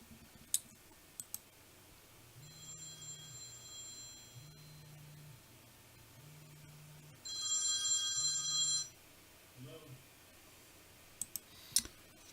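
A telephone rings in short repeated bursts, four low rings followed by a brighter electronic trill, with scattered clicks around it in a quiet room.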